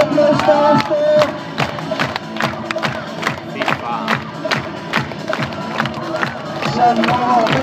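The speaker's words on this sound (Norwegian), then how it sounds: "Da synes jeg vi skal gi han en skikkelig applaus der han står." An outdoor crowd at Aker Brygger waterfront in Oslo claps and cheers for a street performer's fire stunt, sharp individual claps rising and falling over shouts and babble.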